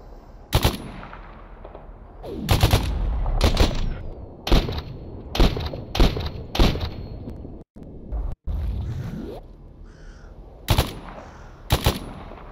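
Gunfire rings out in the game Stalker Anomaly, sharp loud single shots and short bursts spaced unevenly, some with echoing tails, alone without talk.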